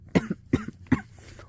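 A person coughs three times in quick succession, each short, sharp cough close and evenly spaced, with no talking.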